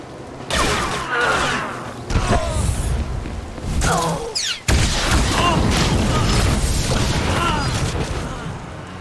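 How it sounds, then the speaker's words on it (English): Explosions in the video game Star Wars: The Old Republic, a run of loud booming blasts and crackling bursts spread across the clip, with a brief drop before another heavy blast, under continuous game noise. "That's nice of you to walk right into an explosion."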